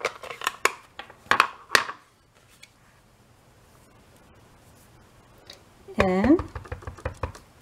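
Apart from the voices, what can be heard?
stamping a chair image onto paper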